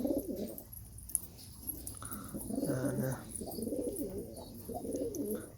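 Close, soft cooing of a six-year-old Arab tumbler pigeon in repeated throaty phrases, rising and falling in a rolling rhythm over faint background noise.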